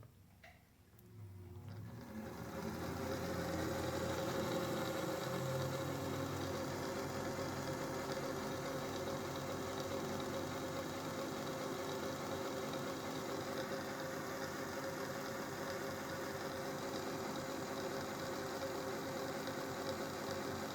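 A Singer 201-2 sewing machine runs steadily after its gears are greased, starting up and settling into a smooth, continuous mechanical whir with no talking.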